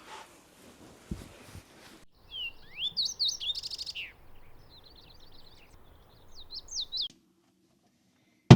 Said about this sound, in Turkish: Ne kadar çok kuş sesleri var.